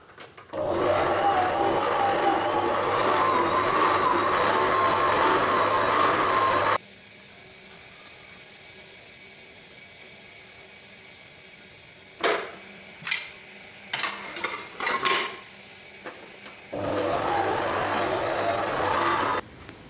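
A stand mixer fitted with a dough hook kneads pizza dough, giving a loud, steady whirring drone that cuts off, leaves a few quiet knocks and rattles, then starts up again.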